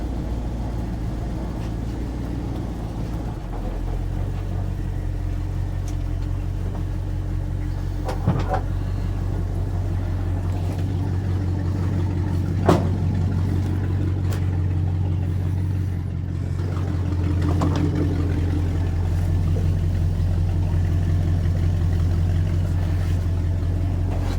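A restored Dodge W200 truck engine drones steadily from a low, continuous rumble on its first drive after a fresh tune, with a few faint knocks and bumps over roughly twenty-four seconds and no talking.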